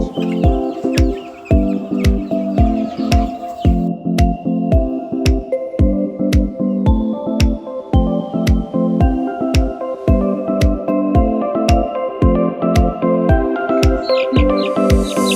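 Young chicks in a brooder chirp steadily with dense, rapid peeping calls layered over each other, loud and continuous with no talk.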